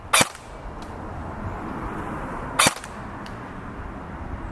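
An electric Barra 400E Gen 2 BB gun fires two sharp, close single shots about two and a half seconds apart, each a brief crack over a steady low background hiss.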